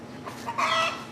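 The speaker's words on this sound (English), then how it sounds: "You can probably hear the chickens getting all flustered for some reason right now" Chickens clucking in a flustered burst, the agitated calls growing louder partway through, nearby and with no talking.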